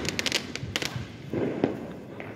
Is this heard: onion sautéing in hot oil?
no